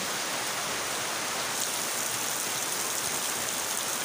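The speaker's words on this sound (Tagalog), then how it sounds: "Kusog kayong ulan." Steady, dense wash of heavy rain hissing continuously across the whole stretch, with no voices.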